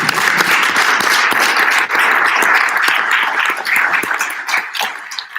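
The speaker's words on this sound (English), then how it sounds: "You can applaud." An audience breaks into sustained applause for panelists joining a Myra Kraft Open Classroom panel discussion: dense, steady clapping from many hands that fills the room at high volume throughout, with no talking.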